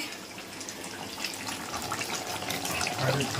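Water splashes and trickles steadily into a pot of chicken cooking in a home kitchen, a soft continuous pouring hiss that grows slightly louder toward the end.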